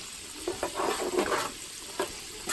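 Pasta with bouillon being stirred in a pot, a few soft scraping swirls and light clatters over a low simmering sizzle, close and without speech.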